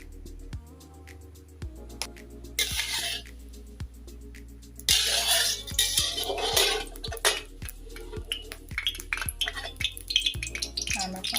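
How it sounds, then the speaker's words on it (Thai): Metal utensils scrape and clink against a pan in a steady rhythm, with bursts of sizzling frying as chopped garlic hits hot oil. "เอากระเทียมสับลงไปผัดนะคะ"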